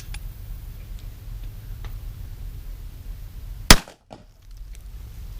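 A single sharp gunshot from a .45 Colt revolver firing hollow-point rounds outdoors, a loud crack midway through, quiet before and after, with no talking.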